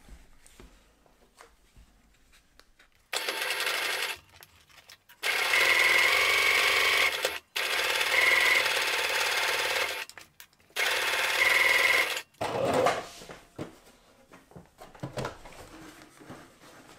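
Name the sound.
sewing machine stitching waxed canvas peg bag seam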